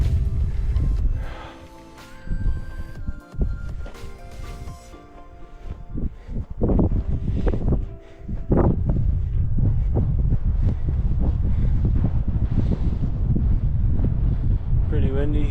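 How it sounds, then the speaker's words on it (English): Strong wind rushes across a high mountain pass as a storm moves in, a loud, continuous low roar with gusts buffeting close to the microphone, briefly easing before surging again. "Pretty windy."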